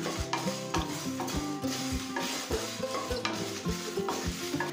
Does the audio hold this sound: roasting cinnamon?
yes